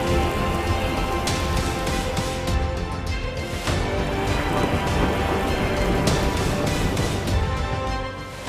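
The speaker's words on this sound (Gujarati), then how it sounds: "ભારે વરસાદ વરસ્યો અને તોફાની પવન જોવા મળ્યું" Heavy monsoon rain with stormy winds in Gujarat pours down in a loud, constant roar of drops hitting surfaces, steady from start to finish.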